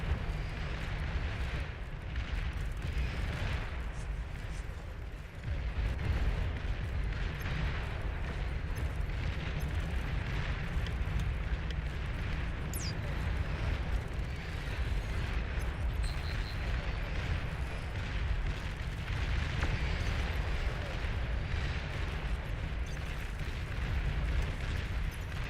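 A sustained roaring blast rumble as an enemy commander is destroyed in the strategy game Beyond All Reason, dense and continuous for the whole stretch with crackling bursts layered in, loud and unbroken.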